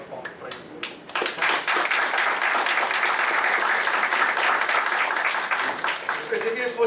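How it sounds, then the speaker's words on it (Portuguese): Audience applause at a book launch for a volume on economic criminal law, beginning with a few scattered claps, then swelling into steady, dense clapping from the room before tapering near the end. "só umas palmas para isso"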